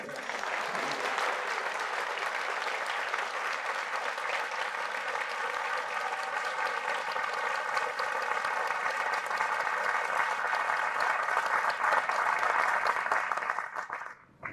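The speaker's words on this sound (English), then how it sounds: "Round of applause." An audience at a documentary screening event applauds continuously for about fourteen seconds, a dense, even wash of clapping that stays loud throughout and cuts off sharply at the end.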